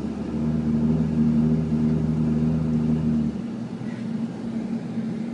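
A Mazda MX-5 Miata drives past at a railroad crossing, a steady low engine rumble with faint tonal hum holding for about three seconds before dropping away to quieter road noise.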